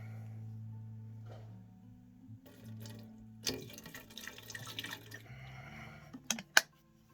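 Water poured by hand into a terrarium, preceded by a faint low hum, then trickling and splashing that ends in a few sharp drips and knocks.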